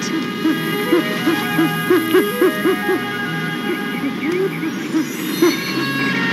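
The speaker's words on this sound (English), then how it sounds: "Now, those are Bubo virginianus. Owls, baby owls." Baby great horned owls (Bubo virginianus) give a long run of soft, rising-and-falling hoots in quick rhythmic succession over a steady background hum.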